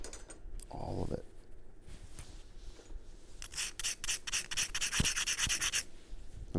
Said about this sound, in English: I'm sanding all that down because I'm going to pressure flake it off camera